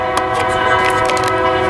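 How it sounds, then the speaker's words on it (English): Freight train approaching a station in Ontario, California, with a loud, sustained horn blast of layered tones over rumbling rail noise, close and dominant throughout. "as that train is coming this way"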